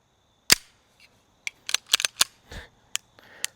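Rapid bursts of sharp, close 9mm pistol shots from a Staccato C2 DUO fired on a range: about ten loud cracks in quick, uneven strings with short pauses between groups.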